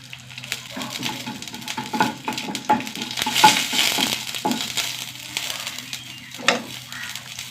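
Mustard seeds, urad dal and dried red chillies frying in hot oil: close crackling and spitting with scattered pops and stirring scrapes over a steady sizzle.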